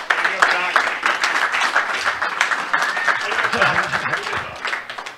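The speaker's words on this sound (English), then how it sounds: "Huge round of applause, though, seriously," An audience applauds Ryan at a conference, clapping fairly close and loud in uneven bursts, with voices talking and cheering over the clapping throughout.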